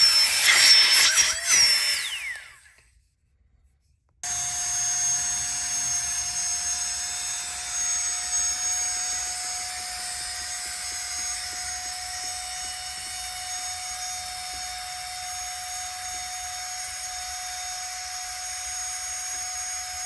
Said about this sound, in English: It actually also has a cordless pump.